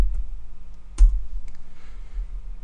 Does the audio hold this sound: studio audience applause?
no